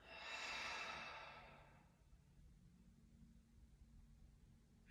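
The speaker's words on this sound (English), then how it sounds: "And exhale." A single deep, breathy exhale during a yoga breathing exercise, soft and close, fading out after about two seconds into quiet room hiss.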